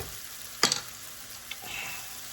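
Onions frying in a pan give a soft, low sizzle, with a sharp clatter of a utensil or stir and a few fainter scrapes, close by and quiet, no talking.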